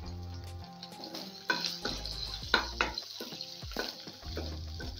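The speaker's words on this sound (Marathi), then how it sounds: "लसूण आणि अद्रक छान भाजले गेलेलं आहे।" Garlic paste, ginger and green chillies fry in a pan for a drumstick soup tempering, sizzling steadily while a spoon stirs and clinks against the pan in irregular knocks.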